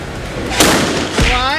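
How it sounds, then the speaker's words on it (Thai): A gunshot fired at a wooden window rings out as a sharp crack, followed by a second impact about half a second later, close and loud. "พร้อมแล้วยิงเลย"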